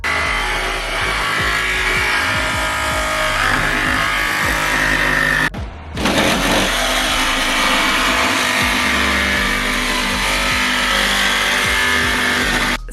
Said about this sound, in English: Tom's about to drill through the roof.